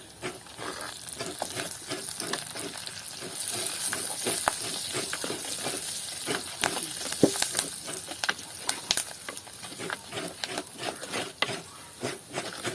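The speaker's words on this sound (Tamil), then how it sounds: "மற்றது இந்த உடைச்சி வச்ச கறிவேப்பிலையும் போட்டு வதக்குவோம்." Fennel seeds and curry leaves sauté in a pan for Jaffna coconut milk sodhi, a close crackling sizzle with frequent sharp pops and stirring scrapes throughout, no voices.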